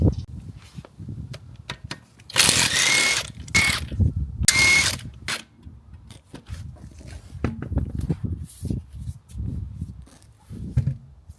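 A power tool removing the wheel from a Vauxhall Corsa, two loud whirring bursts a couple of seconds apart, mixed with ratcheting clicks and clunks of metal parts being handled up close.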